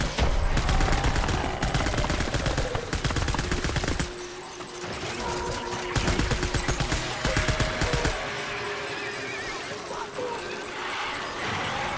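Gunfire from test shooting a weapon in the video game Death Stranding, several bursts of sharp cracks in the first half then quieter scattered shots, with a voice talking intermittently.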